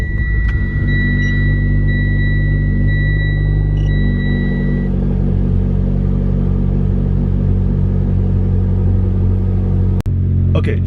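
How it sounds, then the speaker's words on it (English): A turbocharged Lancer GT engine runs at a steady, close, loud idle while warming up, a deep even rumble with faint high tones early on and a brief knock near the end. "let's go ahead and start her up"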